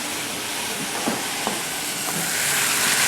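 Cinnamon gently toasting in a pan for Granny Smith apple sauce, giving a steady, close hiss of sizzling that swells slightly toward the end, with a few soft stirring scrapes and no speech.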